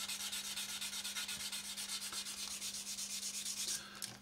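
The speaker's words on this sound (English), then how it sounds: "we just come in with a fine sanding stick, take a little bit more off of that" A fine sanding stick rubs back and forth across a plastic model aircraft panel in quick, regular close-up strokes, a soft rasping rhythm steady throughout beneath a faint constant hum.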